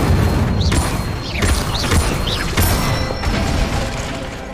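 Spell combo of Accio, Incendio and Levioso hitting a training dummy in the Hogwarts Legacy video game: a dense, loud series of booming impacts and whooshing magical bursts, repeated several times with rising swept tones between them.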